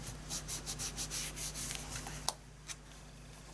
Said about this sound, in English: give that a rub with our bone folder